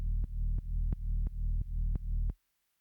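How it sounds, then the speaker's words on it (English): Bass line built from a granular delay at full feedback on a Boss RC-505 MKII looper: about seven steady, deep throbbing pulses with sharp attacks, loud and close, then an abrupt stop. "Now for the bass line, I record a granular delay with feedback 100,"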